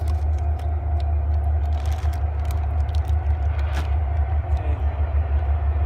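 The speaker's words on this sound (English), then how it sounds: "Here comes the train." A train rumbles steadily nearby as a continuous low, heavy drone under an outdoor Dutch oven cooking setup, with faint clatter on top and a brief spoken word.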